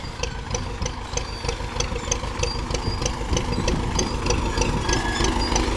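Tractor engine running with a mower or cutting attachment in a pumpkin field, a close, steady, rough idle with a regular knocking pulse and slight vibration, no voices.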